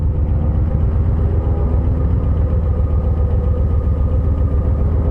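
A 2023 Harley-Davidson Low Rider ST motorcycle rumbles steadily through town, its low engine throb continuous and close throughout with no talk.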